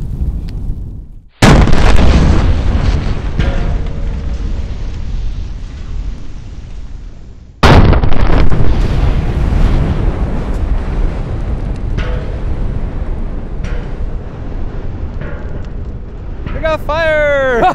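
A gunshot strikes a propane tank and sets off a loud explosive blast and roaring fireball, followed by a second heavy boom and sustained rumbling burn, with voices shouting in the background.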